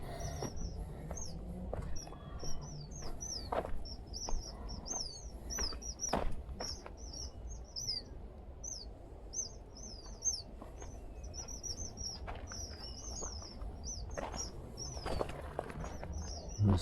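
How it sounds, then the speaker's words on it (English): Small birds chirp in Newlands Forest, Cape Town, quick high twittering calls repeating in bursts across the whole stretch, fairly close, over faint forest ambience and occasional footstep rustles. "Small birdies."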